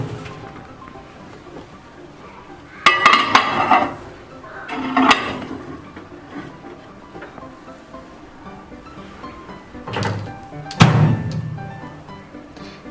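An egg omelette bowl set inside an IFB microwave and its door shut, a few sharp clunks and knocks spaced apart in a quiet kitchen.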